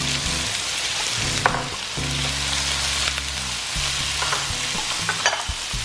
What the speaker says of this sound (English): Go ahead and give that a little mix. Throw in your mushrooms.